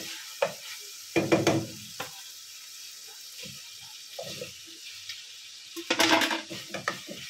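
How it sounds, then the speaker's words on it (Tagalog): Chopped squash being stirred into sautéed onions in a pan, heard as a few scraping, clattering bursts of stirring over a faint sizzle, with quiet gaps between the stirs. "Ihahalo natin siya dito sa langgunisa o verzini"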